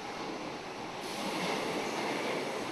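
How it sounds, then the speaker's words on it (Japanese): Subway train running on an Argentine city metro line using ex-Tokyo Marunouchi Line cars gives a steady, loud rumbling roar of wheels and carriage noise, with no speech. "その場所とは市内を走る地下鉄。"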